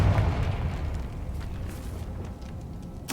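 A Confringo explosion spell in the Hogwarts Legacy video game: a deep rumbling blast that fades, then a sharp burst at the very end.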